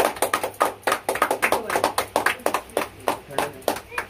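People clap by hand at a Hindustan Development Foundation award ceremony in Parkhi, a loose series of sharp, close claps in an uneven rhythm, with voices talking in the background.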